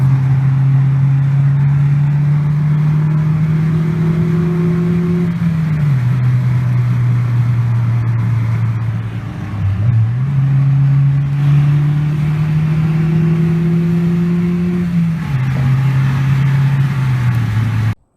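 Steady whine from a car with a cheap aftermarket intake, a sustained tone rising and falling with engine speed over continuous engine drone, loud and close throughout, with no talking.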